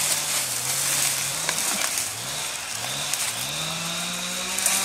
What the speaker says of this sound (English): just firing up the chainsaw